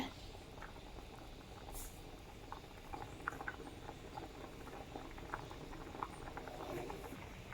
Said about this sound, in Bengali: এই যে এখানে ভাত রান্না হচ্ছে